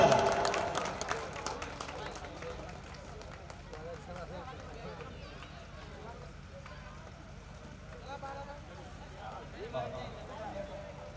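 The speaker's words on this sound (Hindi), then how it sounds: "जोरदार तालियां" An audience at an all-India mushaira poetry gathering bursts into applause, the clapping loudest at the start and then fading under continuing crowd noise and an announcer's voice.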